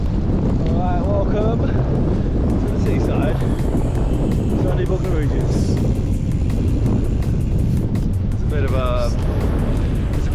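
Headwind buffeting a microphone while cycling toward the seaside, a loud continuous rumbling roar with gusty swells, and a voice speaking briefly under the noise.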